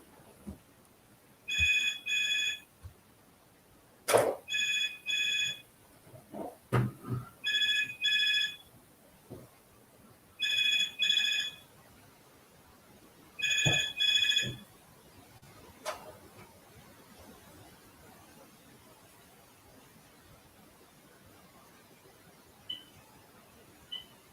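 A phone rings in five evenly spaced electronic bursts, followed by a few faint clicks and quiet room tone.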